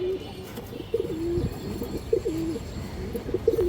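A male Muslad pigeon coos in repeated soft, throaty phrases, close by and steady, with faint background noise.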